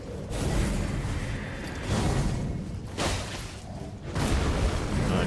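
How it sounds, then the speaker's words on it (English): Explosions in the Dark Souls video game: loud, rumbling bursts that hit about four times at uneven intervals, each swelling and fading. "Explosion."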